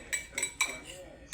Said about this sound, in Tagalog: Then, i-mix na dayon.